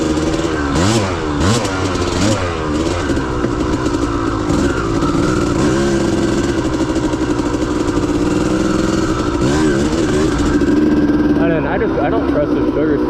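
A 1992 Kawasaki KDX200 dirt bike runs continuously up close while being ridden, its two-stroke engine buzzing loudly with repeated revving swells and throttle changes across the whole stretch.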